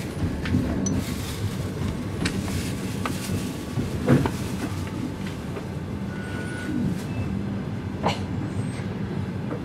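Inside a passenger rail car as the train pulls out of Tuapse, a steady low rumble carries on with occasional light clicks and knocks, heard alone without voices.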